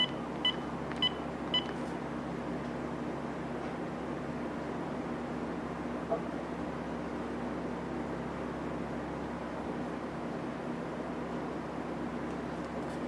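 A few short, faint beeps sound at the start as digits are dialed into a telephone adapter's configuration menu, followed by a long quiet stretch of low steady hum.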